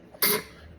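A single short throat clearing from a lecturer, one sharp burst followed by a faint tail, close to the microphone with no speech.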